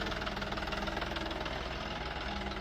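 A tractor engine runs with a steady, knocking diesel rumble and even vibration, heard at moderate distance with no voices.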